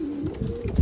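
A female Cheena pigeon of the Punjabi Malwai breed gives one brief, low coo, close by and moderately loud, with faint background rustling and no voices.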